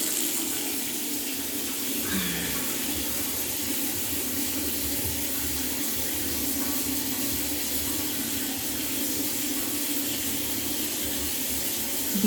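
Water flows steadily from damaged bathroom plumbing in a house being inspected for defects, a continuous hiss like a running tap that does not let up.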